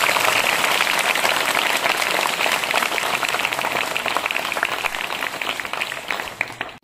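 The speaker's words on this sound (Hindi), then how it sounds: "हमने धन्यवाद देते हुए एक बार जोर से तालियां बजा देंगे।" Loud, sustained applause fills a school Independence Day gathering, a dense crackle of many hands clapping that holds steady for several seconds before thinning at the end.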